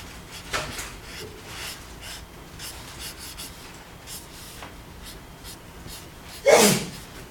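A single sharp sneeze bursts out near the end of a quiet stretch of marker strokes scratching on paper during a menswear fashion illustration lesson, close and fairly loud against faint rustling.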